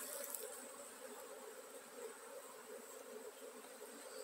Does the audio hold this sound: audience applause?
no